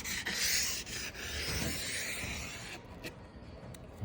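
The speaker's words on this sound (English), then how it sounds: "just the swipe of this plumber's sandpaper is all it takes to make it just a little nice and smooth and pretty" Plumber's sanding tape rubbing along cut panel edges, a close dry scraping swipe that fades into quieter rasping.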